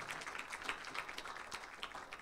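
Short burst of audience applause for two speakers at a French conference on energy storage, steady moderately distant clapping from a roomful of people, with no talk over it.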